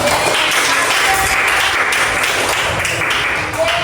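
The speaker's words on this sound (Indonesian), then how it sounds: "kasih tepuk tangannya dong" Sustained applause from a classroom of students during a school guidance session on building self-confidence, a dense steady wash of many hands clapping at once, fairly loud and continuous throughout.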